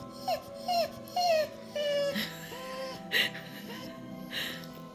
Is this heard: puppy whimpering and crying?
yes